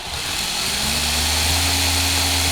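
A Hobbywing Xerun Axe brushless motor spins up under light throttle, giving a steady, fairly loud electric whine with a low hum that settles into a constant tone, heard alone without talk.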